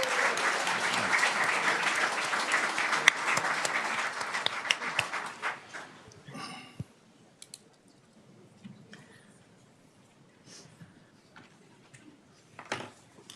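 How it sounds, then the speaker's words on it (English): A Daly City City Council special meeting audience applauds in a dense burst of clapping for about six seconds. The clapping then thins to a few scattered claps and fades into a quiet room. "let's give him another round of applause"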